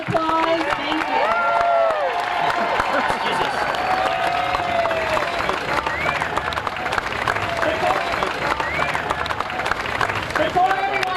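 Rally-goers at an anti-coal protest keep up steady clapping and cheering, a thick, sustained crowd noise with shouting voices and babble layered through it from start to finish.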